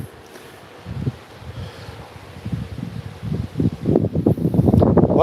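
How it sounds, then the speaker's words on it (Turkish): Wind buffets the microphone outdoors with low rumbling, wavy gusts that grow louder and choppier toward the end, with no voices. "Ses evet biraz dalgalı rüzgar var."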